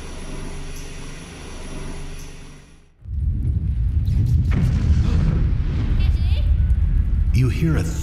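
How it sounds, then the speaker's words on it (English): A sudden deep, thunderous explosion boom in the video game Three Minutes to Eight cuts in after a quieter droning stretch, then rumbles on loudly with a heavy low roar. "You hear a thunderous explosion. It sends a shockwave into your very core."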